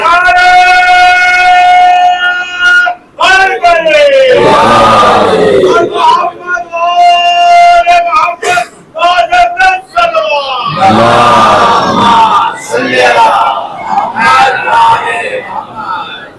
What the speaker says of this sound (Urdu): یہ جو نعرے لگاتے نا لبیک یا حسین، ہمیشہ نعرے ہوتے ہیں